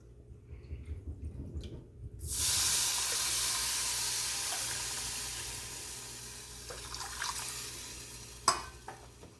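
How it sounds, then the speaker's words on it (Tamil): Water poured into semolina roasting in a pan for pineapple kesari, two cups per cup of rava, bursts into a loud close sizzling hiss that slowly fades, with a few light clinks near the end. "இந்த 1 கப் ரவைக்கு 2 கப் தண்ணி விடுறேன்."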